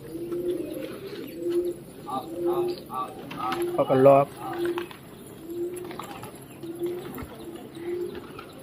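Pigeons coo in a steady, repeating low rhythm, close and clear, while someone speaks briefly near the middle over the birds.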